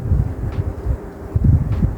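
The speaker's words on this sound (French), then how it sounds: "Le vent, la nature." Wind blowing outdoors in nature, a low rumbling buffet of gusts pushing against the microphone, fairly loud and continuous with uneven surges.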